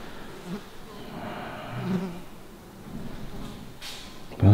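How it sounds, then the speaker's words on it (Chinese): Mosquitoes buzz around in a room of an abandoned hospital, a thin, wavering whine that rises and fades as they fly near the microphone, with faint footsteps and a voice speaking at times. "可是这里又莫名很多蚊子在那边飞来飞去哦"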